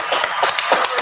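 Small live audience at a sports and cigars podcast clapping, a handful of close, distinct claps in an uneven rhythm over about a second.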